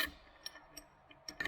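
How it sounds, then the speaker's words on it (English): A file rasping across the teeth of a Milwaukee M18 Fuel chainsaw chain, a few short scraping strokes spaced apart and close by, with no talk. "That's how you sharpen the Milwaukee M18 Fuel Chainsaw."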